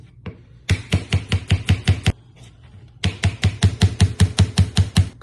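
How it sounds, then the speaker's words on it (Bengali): A knife chops an onion on a cutting board in two quick bursts of sharp, even, close knocks, about eight strokes and then about a dozen, with a short pause between them. "প্রথমে আমরা পেঁয়াজটা কেটে নিই।"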